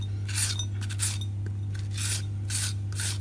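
Carrot being grated into thin shreds for a Vietnamese cucumber salad, heard as several rough rasping strokes in bursts, close and fairly loud over a steady low hum.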